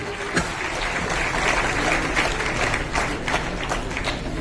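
Continuous audience applause, a dense wash of many hands clapping at steady loudness for several seconds.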